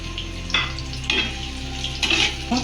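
Onion frying in oil for a Bengali sorputi fish curry crackles and sizzles up close, broken by a few sharp stirring scrapes against the pan.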